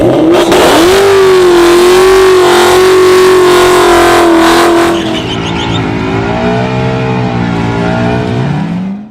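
Ford Mustang engines revving hard, loud and close, with rising and falling pitch; one sustained roar gives way to a second, slightly quieter engine sound after about five seconds.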